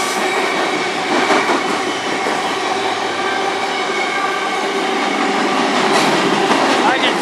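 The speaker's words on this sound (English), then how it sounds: "Potash train today." A long potash freight train rolls past close by on the Strathroy Sub, a loud, steady rumble of wagons with clattering wheels and occasional faint squeals, continuous for the whole stretch.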